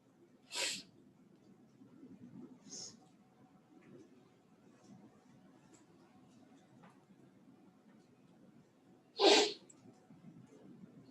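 Two short, sharp sneezes, one early and one near the end, with a softer sniff between over a quiet background.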